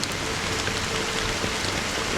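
Steady heavy rain in a Honkai Star Rail cutscene, a dense, even hiss of falling drops that continues without a break, close and fairly loud with no talking over it.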